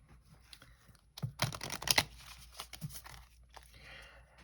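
Soft riffling and papery rustle of a tarot deck being shuffled, a quiet close burst of flicking cards with a few crisper snaps, then fading rustles.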